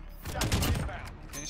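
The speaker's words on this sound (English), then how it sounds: "I'm getting shot at from somewhere." Gunfire in Call of Duty Warzone crackles in a brief cluster of rapid shots near a police station, moderately loud over a short burst.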